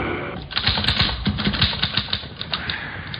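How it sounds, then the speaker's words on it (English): Rapid, steady clatter of a typewriter in an old radio mystery set in Scotland Yard's Black Museum, with dense keystrikes, close and fairly loud, in a narrow muffled band. "Here's a typewriter. Your secretary uses one."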